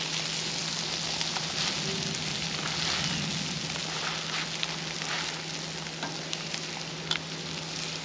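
Food sizzles on a Lifedoo Pro Flat Pack portable charcoal grill, a steady, close, dense hiss with faint pops and crackles throughout and no talking.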